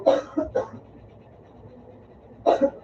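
Three short coughs, two clustered at the start and one more after a quiet pause, close and moderately loud over faint background noise.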